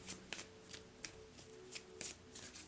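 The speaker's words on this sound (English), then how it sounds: "the way I work is I shuffle until a card flies out" Tarot cards being shuffled by hand, a quiet, close run of soft riffling slaps and flutters in irregular bursts, with no talking.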